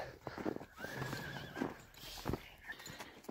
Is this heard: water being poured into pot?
no